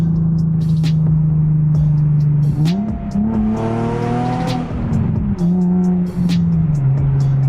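A Nissan 350Z or Infiniti G35 engine fitted with a Z1 plenum spacer idles with a steady low drone, then revs up sharply and pulls through the gears before easing back to a lower hum.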